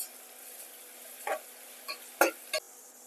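Onions and five hot green chillies fry quietly in a pan, a soft constant hiss broken by a few sharp scraping clicks of a spoon stirring.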